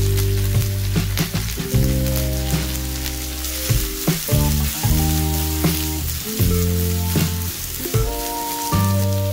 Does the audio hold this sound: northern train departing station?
no